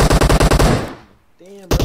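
Rapid automatic gunfire from a shooter video game in a team deathmatch, a loud burst of evenly spaced shots that fades out, followed by a brief tonal game sound and another sharp shot at the end.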